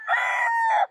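A gamecock crows once, loud and close, a single drawn-out call under a second long at sparring practice, with no voices.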